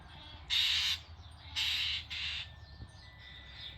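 Two loud, raspy bird squawks ring out close by outdoors, aimed at a cat, the second a doubled burst, with quieter background noise between them.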